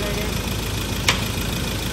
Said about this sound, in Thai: ตอนนี้เครื่องยนต์สตาร์ทติดแล้วนะครับ